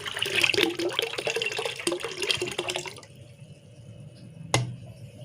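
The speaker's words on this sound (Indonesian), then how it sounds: "kita masukin starter bakteri Rhodobacter ya, Rhodobacter. Nah ini sebanyak 300 ml." About 300 ml of Rhodobacter bacteria starter liquid is poured into a mixture, giving a close, splashing trickle that runs for about three seconds and then stops, followed by quiet and a single knock.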